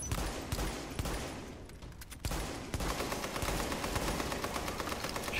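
Rapid bursts of gunfire from the video game Tom Clancy's The Division, with dense automatic fire and scattered single shots running almost continuously and loud throughout.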